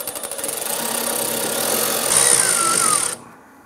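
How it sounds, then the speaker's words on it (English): A quarter-inch socket loosening the fuel line clamps at the tank of a 1995-2001 Ford Explorer, a close, steady buzzing ratchet drone that rises slightly, then stops abruptly near the end. "Using our quarter inch socket, we want to go ahead and loosen these clamps holding our fuel lines to the"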